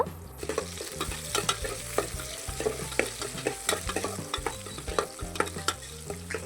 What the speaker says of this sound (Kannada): ಒಂದು ಈರುಳ್ಳಿ ಹಾಕೊಂಡು ಫ್ರೈ ಮಾಡ್ಕೊಳ್ಳೋಣ